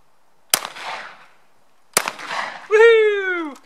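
Two sharp, loud shotgun blasts at clay targets, each with a trailing rumble, well spaced apart, followed by a person's loud whooping cheer.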